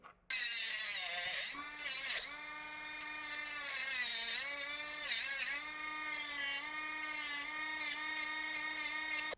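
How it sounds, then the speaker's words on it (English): A tether for a motorcycle speaker lid adapter is cut shorter with a tool, making a continuous, close, whining grind with shifting pitch that lasts almost nine seconds. "I'm going to cut this a little shorter"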